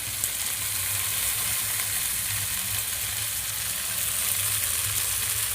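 Chilli chicken frying with green chilli, capsicum, chopped tomato and coriander leaves as it is stirred, giving a steady, even sizzle that runs unbroken from start to finish.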